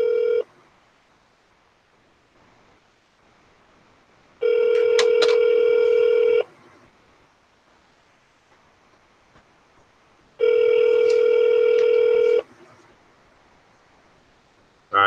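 Ringback tones from a telephone call being transferred repeat as two long, steady two-second rings separated by about four seconds of quiet line hiss, with a third ring just starting at the end.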